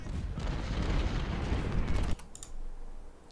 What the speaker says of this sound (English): Just one cannon? Might have just been one cannon.